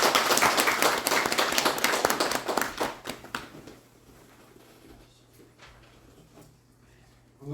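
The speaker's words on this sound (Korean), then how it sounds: "힘찬 박수를 통해서 학산 박윤철 교무님을 모시도록 하겠습니다" A lecture audience breaks into vigorous applause to welcome a speaker, Haksan Park Yun-cheol. The clapping is loud and dense for about three seconds, then dwindles to a few faint, scattered claps in a quiet room.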